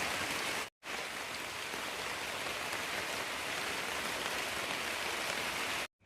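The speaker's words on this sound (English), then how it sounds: "And it's deciding to rain, but staying pretty dry in here." Rain falls steadily on a newly framed porch roof, heard from inside as a dense, continuous hiss that cuts out briefly at the start and end, with no voices.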